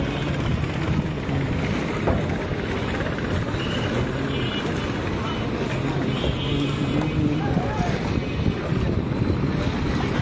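A river launch at Jinjira ferry ghat gives a steady engine drone with wind buffeting the microphone, continuous and fairly loud, while a person talks over it.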